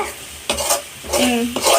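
Tomato masala for chicken keema sizzles and frying in a pan while a spoon stirs it, producing bursts of scraping and hissing with short pauses between strokes, close and fairly loud.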